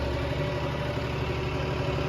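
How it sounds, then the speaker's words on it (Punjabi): A John Deere tractor engine idles nearby, a constant low mechanical rumble with a faint throb and no change in pace. "ਇਹਦਾ ਨਾਂ ਹੀ ਪਾ ਦਈਏ ਜੱਗੇ ਵਾਲਾ ਟਰੈਕਟਰ ਹੈ"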